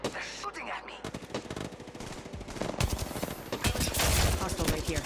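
Rapid bursts of enemy automatic gunfire in Apex Legends, loud and close, with dense overlapping shots that grow heavier toward the end of the stretch.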